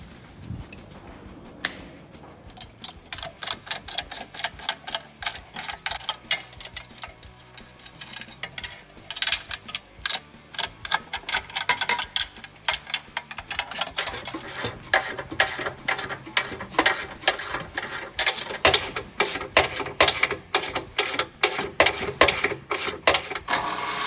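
Ratchet wrench working loose 18 mm frame bolts on a truck during a 9.5K Smittybilt winch install, a steady run of rapid clicking pawl ratchets, close and sharp, growing busier and louder toward the end with no talk.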